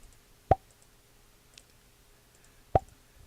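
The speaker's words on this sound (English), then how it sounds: "this is where the actual pop is" Two short, crisp pop sound effects synced to a 2D animation edit ring out about two seconds apart over near silence, each a single sharp hit.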